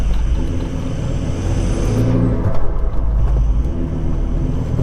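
A Land Rover Discovery's engine revs hard off-road, a loud rumbling drone that surges and lurches under boost, with wheel and chassis noise underneath.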